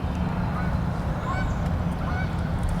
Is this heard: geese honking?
yes